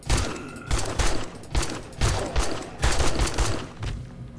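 Rapid bursts of gunfire from the video game 7 Days to Die, set in a snowy map, with dense repeated shots and thuds in clustered volleys, loud and continuous with no talking.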